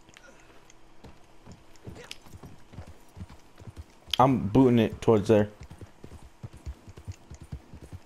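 A horse galloping in a video game, with steady rapid hoofbeat clip-clops throughout and a brief shout from a player partway through.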